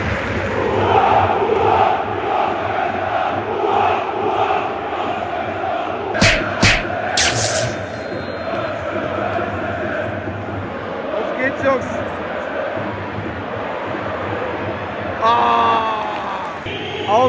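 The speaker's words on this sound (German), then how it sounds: "Ausgebuht im eigenen Stadion." A football stadium crowd at a Hannover 96 home match against Hansa Rostock, booing and jeering in a sustained, distant roar with a few sharp whistles and a voice talking nearby.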